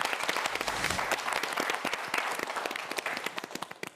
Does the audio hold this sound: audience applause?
yes